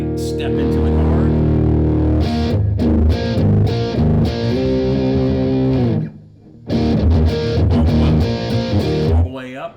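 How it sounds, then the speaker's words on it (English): An electric guitar plays through a big, thick distortion with a Boss 500H volume pedal pushed all the way up, ringing chords sustaining loud and close with a brief dip before the playing resumes. "So we've got a big, robust distortion sound."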